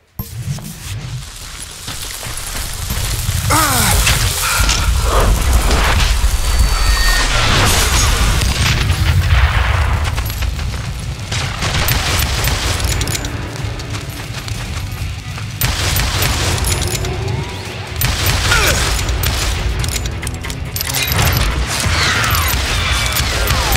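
Gunfight in the western game Call of Juarez: Gunslinger: loud, continuous booming shots and mechanical clatter fill the whole stretch, with dense overlapping blasts and brief dips between volleys.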